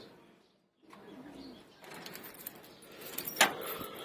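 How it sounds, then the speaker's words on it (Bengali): Keys jangle as a padlock is unlocked, giving a brief bright metallic rattle near the end after quieter handling, while pigeons coo faintly in the background. "তারপর তালাটা খুলবো।"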